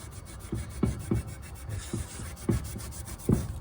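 A Japanese Nakarai rust eraser scrubs heavy rust off metal in short back-and-forth strokes, six or seven soft rasping rubs at an uneven rhythm, close and fairly quiet.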